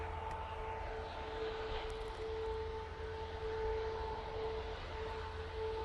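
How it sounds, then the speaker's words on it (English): Brussels Airlines Airbus A319 airliner arriving at Manchester Airport, a steady distant jet drone with two sustained whining engine tones held throughout, moderately quiet and even, with no talk. "This is the Brussels Airlines A319 coming in from Brussels"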